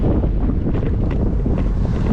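Strong headwind buffets the microphone in a continuous low roar while cycling in Poltava, loud and close, with no other sounds standing out.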